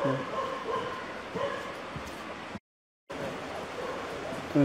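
A dog barks and yips amid dense outdoor background noise around a house, with people talking nearby and a brief drop to silence partway through.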